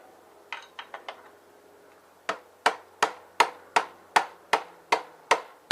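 A rubber mallet smacks a Kawasaki KLX front fork down in its clamp: a few light taps, then a steady run of about ten sharp, loud, evenly spaced strikes.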